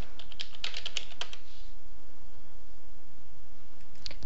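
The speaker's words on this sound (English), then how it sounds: "Type in the link command" Quick bursts of clicky keystrokes on a computer keyboard, a short flurry near the start and one more tap at the end, close and clear with no talking.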